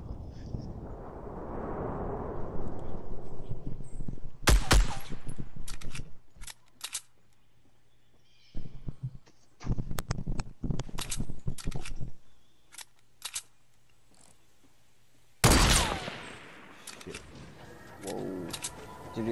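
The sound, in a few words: gunfire in Fortnite video game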